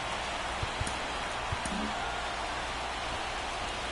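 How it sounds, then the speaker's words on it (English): Rain falls steadily on a baseball field in the video game MLB 24, an even hiss filling the scene with a few soft thumps early on and no talk over it. "This rain is not letting up."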